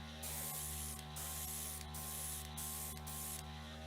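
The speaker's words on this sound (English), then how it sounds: "Just spraying it right over the top." An aerosol spray can hisses over a painting in steady bursts with brief gaps between them, close and fairly loud, over a constant low electrical hum.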